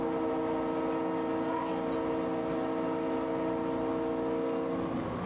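Steady drone of an EMD diesel locomotive on a New England short line, a loud continuous rumble with tonal horn-like hum throughout and no pauses or voices.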